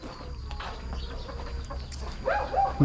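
Chickens cluck behind a rural house, with soft scattered calls over a low background hum. A louder, closer burst of clucking comes near the end.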